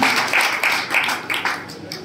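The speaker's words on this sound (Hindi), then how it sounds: "स्वयं के लिए आप तालियां बजाएंगे।" Audience members at a BJP active members' conference in Tirodi clap together, a dense, moderately loud patter of hand claps swelling in short bursts and fading slightly toward the end.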